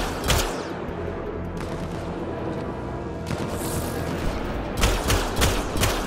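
Gunfire from the sci-fi shooter game Mass Effect Andromeda, where a pistol is in use amid a noisy battle, with loud, sharp shots coming in clusters over a dense rumbling backdrop of combat.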